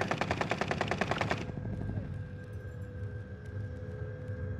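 Automatic gunfire rattles in Call of Duty: Warzone on Rebirth Island. A fast, loud burst of rapid shots fills the first second and a half, then gives way to quieter game ambience with faint distant pops.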